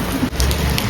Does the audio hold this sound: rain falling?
yes